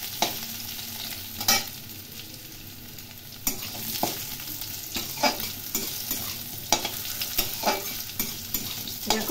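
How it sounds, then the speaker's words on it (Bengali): Cauliflower and potatoes frying together in a pan for a Bengali-style cauliflower curry, a steady low sizzle broken by repeated sharp scrapes and clatters of stirring, close up with no talking. "ফুলকপিগুলো দিয়ে দেবো এবং ভেজে নেব।"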